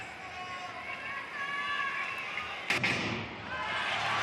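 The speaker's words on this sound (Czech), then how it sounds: "Zazněl startovní výstřel závodu na 3000 metrů žen." A single sharp starting pistol crack for a women's 3000 m race at a Monaco 2026 athletics meeting rings out over a steady stadium crowd murmur, followed by a brief swell of noise.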